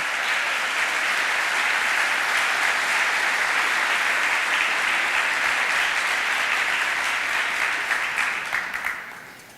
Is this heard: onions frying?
no